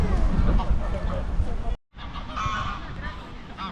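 Geese in a Munich park honking in bursts over a low, rumbling background with some voices, briefly cut off by a dropout in the middle.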